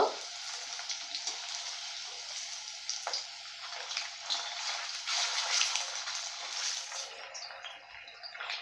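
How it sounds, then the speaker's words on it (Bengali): Chicken pieces frying in oil in a pan for a capsicum chilli chicken, giving a continuous hissing sizzle with small pops that swells and fades slightly, close and fairly quiet, with no voices. "একটা সাইড হয়ে গেছে তো আর একটা সাইডে আমি ভেজে নেব"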